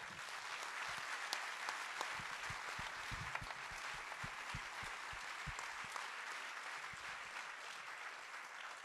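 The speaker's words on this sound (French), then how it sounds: "je voudrais qu'on les applaudisse très très fort ce soir" Sustained applause from an audience, a dense, even wash of many hands clapping at a distance, with no pauses.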